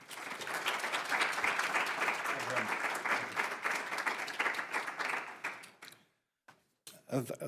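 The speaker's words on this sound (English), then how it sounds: "Let's welcome Julian with a round of applause" An audience at an evening book event applauds to welcome author Julian Borger, a full, steady round of clapping from many hands that thins out and stops, followed by a few brief sounds.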